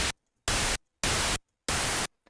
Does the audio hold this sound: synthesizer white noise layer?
yes